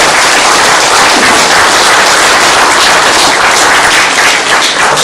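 A forum lecture audience breaks into loud, dense clapping that fills the room for the full stretch, continuous and even, with no voices rising above it.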